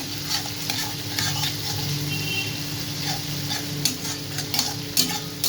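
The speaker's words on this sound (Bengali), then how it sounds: "আস্তে আস্তে কমিয়ে বাড়িয়ে নাড়াতে হবে" Onion, tomato and potato pieces fry and sizzle in a pan for a prawn curry while a spatula scrapes and stirs them in irregular strokes, steady and close.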